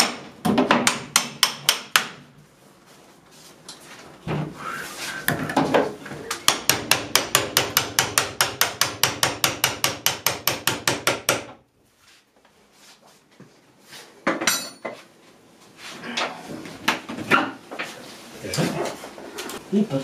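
A hinge pin being hammered into a window during draught-proofing work, heard as close rapid series of sharp metallic taps, with one long steady run in the middle, and talk between the bursts.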